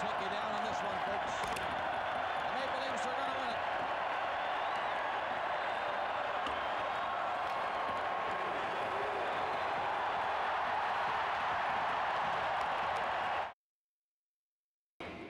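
A hockey arena crowd roaring after a Toronto Maple Leafs playoff win over the Ottawa Senators, a dense sustained wall of cheering and applause that runs unbroken before cutting off abruptly near the end.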